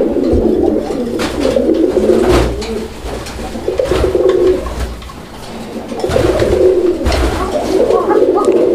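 Male Raj-golla pigeons coo close by in repeated rolling bursts, swelling and fading in waves across the stretch. A faint voice surfaces briefly among the calls.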